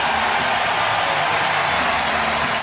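A baseball stadium crowd roars as the Giants take the lead, a dense, loud, sustained wash of cheering and applause filling the whole stretch without letup.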